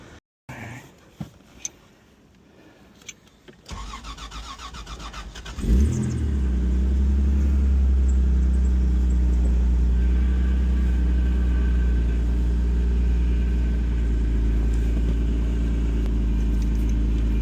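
A Toyota 4Runner's engine cranks and catches after a few seconds of shop clatter, then settles into a steady, loud, close idle rumble with no audible misfire, alone without voices.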